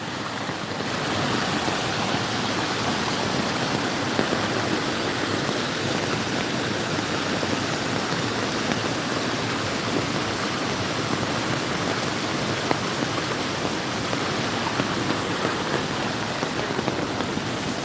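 A flash flood in central Kentucky roars in a steady, dense broadband rush of churning water under heavy rain, loud and unbroken for the whole stretch with no talking.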